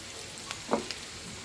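Already-fried potatoes and cauliflower drop into hot oil with spices, including coriander powder, giving a brief soft sizzle with a couple of clinks from the pan, then a low steady hiss.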